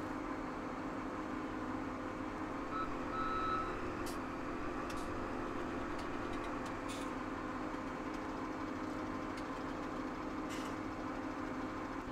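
A truck in the farming game Farming Simulator 17 reverses with repeated warning beeps over a low, steady engine hum, all fairly quiet and with no voices.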